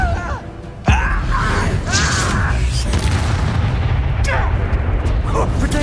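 Spell blasts boom and crackle in Hogwarts Legacy combat, with a sudden heavy explosion followed by sustained rumbling, crackling and magical whooshes, and a voice speaking over the action.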